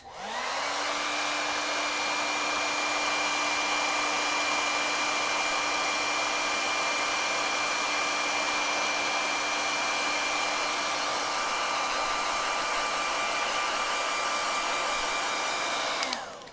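A hair dryer blows steadily on a watercolor rose painting, a loud continuous whirring hum with a constant pitch that holds for about sixteen seconds and cuts off abruptly at the end.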